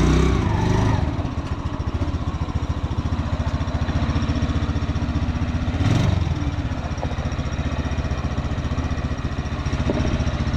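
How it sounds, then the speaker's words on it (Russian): A small engine of a homemade three-wheeled all-terrain vehicle idles steadily with a rapid, throbbing putter, loud and close, with a brief rev near the start and another midway. "Мотор мягко работает хорошо."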